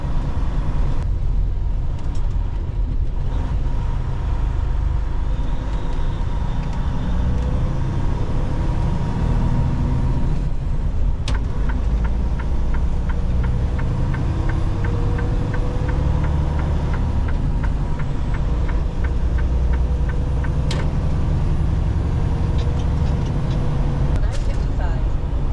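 A truck rolls along a highway toward Chicago, its engine and road noise forming a steady low rumble from inside the cab, with talk over it.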